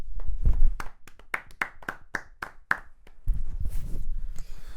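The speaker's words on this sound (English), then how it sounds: "I'll give him a round of applause" A podcast host claps for Ange Postecoglou: a quick run of sharp, separate hand claps, fairly close, then softer clapping and shuffling noise.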